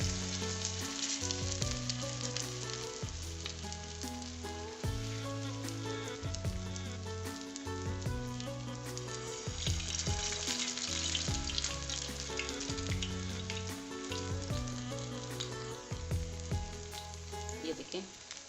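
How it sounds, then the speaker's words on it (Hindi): Rice chapli kebabs fry in hot oil with a continuous, dense sizzling crackle, close and loud, steady throughout with no talking. "तेल हमने फ्राई होने के लिए रख दिया था"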